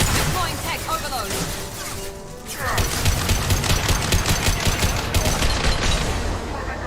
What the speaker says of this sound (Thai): Deploying tech overload.